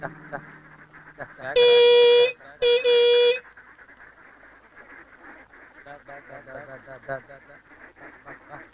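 Two loud, honking quacks in quick succession, close by, with people talking before and after.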